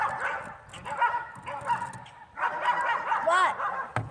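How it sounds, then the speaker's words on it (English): A pet dog in a house barks and yips in quick bursts, close and fairly loud, with whiny, pitch-bending cries near the end. "Sorry about the barking back there."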